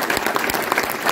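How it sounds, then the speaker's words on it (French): Brief burst of applause from an audience at a ceremony in Chanteloup-en-Brie, dense clapping heard close and steady. "je voudrais qu'on l'applaudisse"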